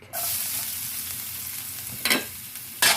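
Garlic sizzles steadily in a hot pan for a chicken and onion stir fry, a bright continuous crackle with two short bursts of louder spattering near the end, close by with no talking.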